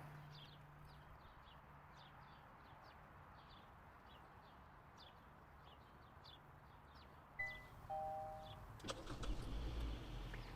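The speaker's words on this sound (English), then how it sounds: "And here you go, the car started." Quiet outdoor ambience with birds chirping, then a brief beep and a Kia Sportage engine cranking to life by remote starter and running nearby.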